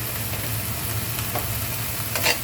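Ground pork giniling sizzles and fries in a hot pan, a constant crackling sizzle with a few scraping stirs near the end, close and loud with no voices.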